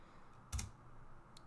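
A couple of isolated keystrokes on a computer keyboard while typing a Linux command, quiet and close, separated by a near-silent pause.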